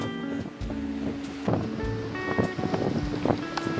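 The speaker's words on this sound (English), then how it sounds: "windy as all hell here" Strong wind buffets the microphone with gusty rumbling at the tip of Cape York, mixed with tonal hums and occasional knocks, with no voices.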